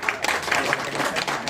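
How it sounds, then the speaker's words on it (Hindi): A crowd at an election meeting claps in a steady, moderately loud burst of applause, with faint voices mixed in. "जोरदार तालियों स्वागत करिए।"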